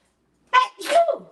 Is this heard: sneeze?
yes